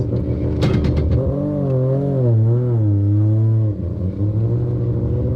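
A car fitted with a race transmission labors up a steep street incline, its engine droning loudly and close, wavering in pitch as revs rise and fall, with a brief clatter near the start and a slight drop late.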